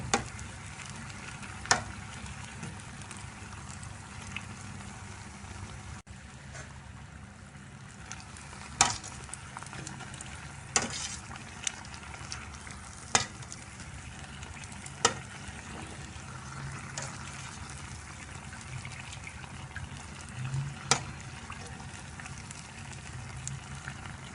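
Steady low sizzling of dumpling batter frying in oil, continuous throughout, with occasional sharp clicks and pops breaking through the hiss.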